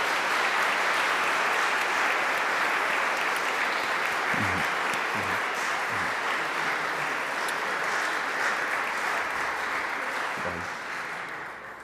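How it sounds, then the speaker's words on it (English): A school athletic awards audience applauds its athletes with a steady, broad roar of clapping that stays full and even throughout, fading only slightly at the close. "Let's give our athletes a round of applause for continuing their collegiate careers."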